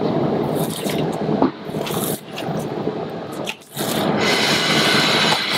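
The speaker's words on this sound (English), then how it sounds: "It's really important to have a really sharp knife, otherwise you can't fillet the fish." A sharp knife fillets a turbot on a board in a restaurant kitchen, giving close, wet, continuous scraping and squishing slices that pause briefly between strokes.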